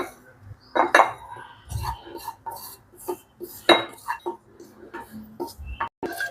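Roasted gond is moved from a pan into a bowl for gond laddu, with irregular metallic clinks and scrapes of utensils against cookware, some louder knocks, and someone speaking quietly in between.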